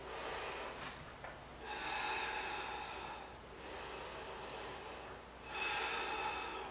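Slow, deep breaths are drawn in and pushed out during a barre workout, alternating long airy inhales and exhales heard up close in a quiet room.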